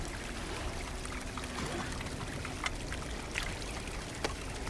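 A water bottle filling from a mountain stream in the climbing game Cairn, a quiet, steady trickling and gurgling rush with a few soft splashes.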